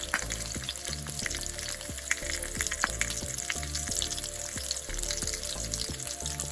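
Lamb sizzles and fries steadily in a pan at a bush campsite on a river, a continuous crackling hiss with intermittent small pops and faint clinks, loud and close with no talking.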